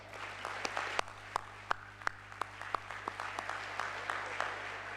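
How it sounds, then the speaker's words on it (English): Audience applause at the closing plenary of the Global Peace Convention 2014, sparse, distinct hand claps ringing out over a hall hum and growing into steady clapping. "Give yourselves a round of applause."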